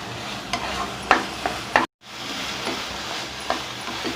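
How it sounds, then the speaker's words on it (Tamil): A spoon stirs carrot halwa with raisins and cashews in a pan, giving soft scraping strokes with a few sharper clinks over a low sizzle, followed by a brief dropout. "சேர்த்து அதையும் நல்லா கிளறிக்கலாம்."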